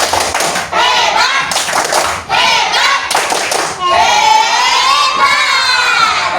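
A classroom of schoolchildren performs a rhythmic clapping cheer, bursts of claps alternating with loud chanting and shouting voices in a repeating pattern, ending in a sustained high group shout.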